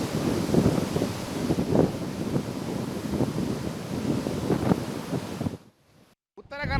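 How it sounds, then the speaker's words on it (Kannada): Strong wind buffets the microphone over heavy surf pounding the shore at Karwar, a loud continuous roar with surging bursts of big waves; the rush cuts out near the end, leaving brief near-silence and a short fragment of another sound. "ದೈತ್ಯಾಕಾರದ ಅಲೆಗಳು ಈ ಸಂದರ್ಭದಲ್ಲಿ ದಡಕ್ಕೆ ಬಂದು ಬಡಿತಾ ಇರುತ್ತೆ."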